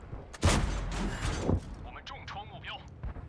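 Several tanks fire in World of Tanks, with a loud broadband blast near the start and further heavy shots and rumbling impacts over the next second, trailing into quieter mechanical clatter with faint voice-like sounds.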